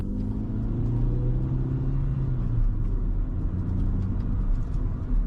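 A 2024 Hyundai i10 with an automated gearbox accelerates on the road, its engine a steady low rumble rising in pitch, heard from inside the cabin with no talk.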